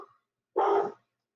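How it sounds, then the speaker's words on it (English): A pet dog indoors gives a single short bark, close and clear, after a moment of near silence. "If you hear my dog, I'm sorry. She barks a lot."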